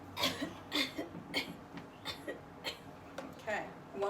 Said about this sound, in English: On this exhalation, I want you to cough.